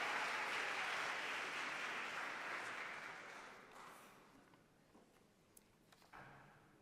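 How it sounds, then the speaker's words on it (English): An audience applauds the Spelman College Glee Club at a Founders Day convocation, the clapping loud at first and then slowly fading to scattered claps and near quiet. "have another round of applause for the magnificent Spelman College Glee Club"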